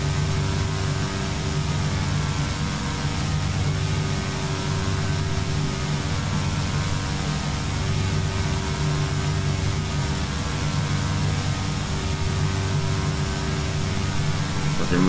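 Simulated turboprop engines of a Beechcraft B200 King Air in X-Plane 10, a steady loud droning hum with strong tonal whine holding constant throughout, no voices.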